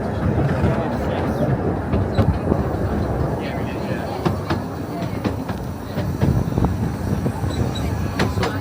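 A railway train rolling over a scissors crossover near a locomotive shed, a steady loud rumble of wheels with scattered clicks and clacks from the pointwork throughout.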